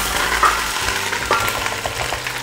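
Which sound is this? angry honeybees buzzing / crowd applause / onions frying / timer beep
onions frying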